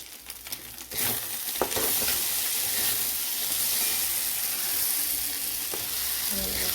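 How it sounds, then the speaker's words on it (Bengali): Pakoras deep-fry in hot oil with a loud, steady, dense sizzle, preceded by a few clanks and stirring knocks as the frying begins. "এটা পুরো ঝুরঝুরে ভাজা হবে"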